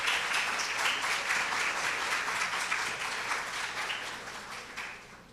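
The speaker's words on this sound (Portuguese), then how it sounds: "Uma salva de palmas." A seminar audience at a regional psychology and public policy event in Brazil gives a welcoming round of applause, a thick, even clapping that holds for several seconds and gradually fades near the end.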